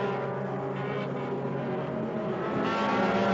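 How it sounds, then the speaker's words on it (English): Honda Challenge 2 race cars rev hard at a standing start at the NASA National Championships, a dense, sustained engine roar with layered tonal drones that swells slightly toward the end. "And here comes the Honda Challenge 2 cars."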